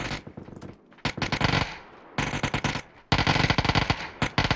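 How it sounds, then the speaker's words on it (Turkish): An Uzi submachine gun fires in the PUBG video game in several rapid, loud bursts separated by brief pauses, with the bursts getting heavier toward the end. "Uzi'yle sıkıyor dikkat et fazla yakın girme"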